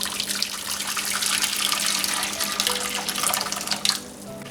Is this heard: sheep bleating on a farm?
no